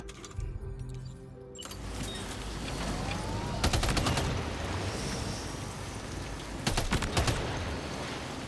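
Rapid bursts of gunfire aimed at BT jellyfish in Death Stranding 2, several rattling volleys with sharp clustered shots over a steady rushing game backdrop.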